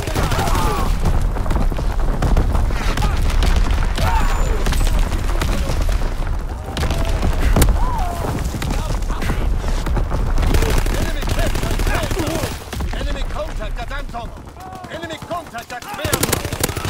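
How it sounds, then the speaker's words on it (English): Incoming enemy artillery in Call of Duty: WWII, a dense, loud barrage of machine-gun bursts and explosions rolling on without pause, with game voice callouts sounding over the battle. "Incoming enemy artillery."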